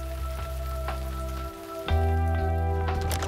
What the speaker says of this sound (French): quand il pleut fort, une partie de l'eau s'infiltre dans le sol